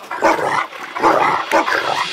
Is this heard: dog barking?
yes